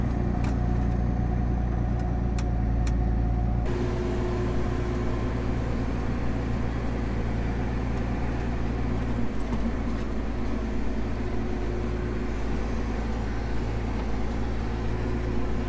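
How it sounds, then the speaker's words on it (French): A farm tractor's engine runs steadily at a low idle-like hum outdoors, continuous and fairly close, with a slight change in tone a few seconds in. "moi je ramène mon tracteur"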